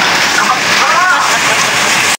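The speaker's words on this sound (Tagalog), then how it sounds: "ang lakas ng ulan, no? Ang lakas talaga." Heavy rain pours down in a dense, continuous hiss with a voice speaking over it, ending abruptly.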